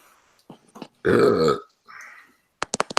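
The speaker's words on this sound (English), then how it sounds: "I can burp if I want to burp." A single loud, drawn-out burp from one person, with a few small mouth clicks and faint sounds before it and a few sharp taps after.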